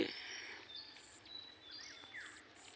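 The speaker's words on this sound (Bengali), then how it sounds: "পাখিদের শব্দ" Faint, scattered bird chirps and tweets sound from a distance on a calm morning, over a quiet outdoor background.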